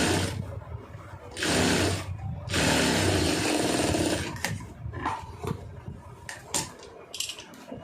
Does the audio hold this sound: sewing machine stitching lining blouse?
yes